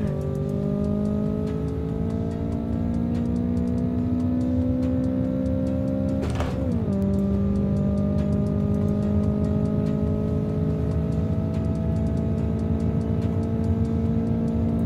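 A turbocharged Toyota Trueno AE86 in a video game drag race revs up in a loud, rising whine. It drops with a gear shift midway, then climbs steadily again with no talk over it.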